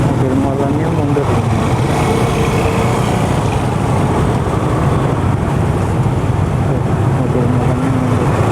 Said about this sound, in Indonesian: Mobil molannya mundur.